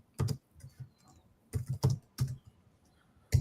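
Keys clack on an Apple computer keyboard in short uneven bursts of sharp taps separated by brief pauses, close and fairly quiet, with no voices.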